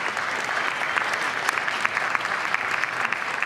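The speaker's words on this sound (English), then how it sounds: "Let's give them a clap." An audience claps for mentors at a hackathon event, even, steady applause at moderate volume with a few crisp nearby claps popping out of the wash, no talking over it.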